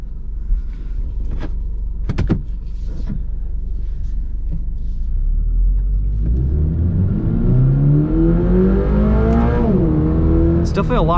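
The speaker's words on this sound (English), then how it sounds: "let's take out an automatic onto the full course and see how it does" A 2022 Toyota GR86 Premium automatic accelerates on a full race course with traction control off. The cabin stays fairly quiet at first, then loud engine revs climb steadily, dip briefly at a shift and climb again.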